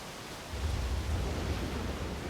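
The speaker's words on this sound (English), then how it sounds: "It's an eternal localized thunderstorm." Steady rumbling storm ambience from a localized thunderstorm in the video game Scars Above, with a dense low roll that swells in after a quieter first half-second and holds as a continuous wash.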